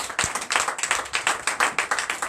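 Church congregation clapping during a Sunday worship service, a fast, steady rhythmic run of hand claps, loud and close, with no talk over it.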